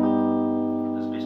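Augmented triad chord strummed on a jazz guitar, a single sustained chord ringing steadily and close, slowly decaying with faint background noise toward the end.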